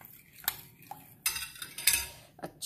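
Spices being mixed into fish in a bowl, heard as a few scattered utensil scrapes and clinks against the dish, fairly close and moderately loud, with short quiet gaps between strokes.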